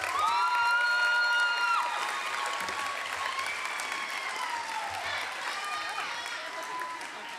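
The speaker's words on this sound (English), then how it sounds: "Let's give her a round of applause." Audience applause at a school awards ceremony, a broad wash of clapping with cheers and shouts, fading gradually while voices carry over it.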